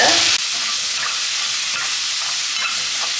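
Tomatoes sautéing in a pan, a dense, loud, steady hiss of frying that starts with a brief louder burst and then holds even, with faint soft stirring ticks, close and without talk.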